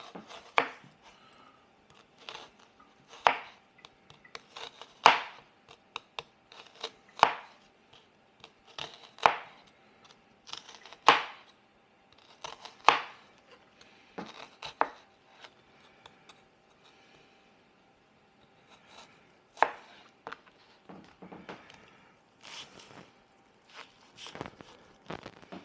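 A knife chops vegetables on a cutting board in short bursts of rapid, crisp knocks separated by pauses. The strikes are close and clear against a quiet room, with no one talking.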